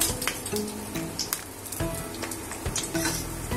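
Cumin seeds sizzle and crackle in hot ghee close up, a busy popping hiss with a few light clinks of stirring.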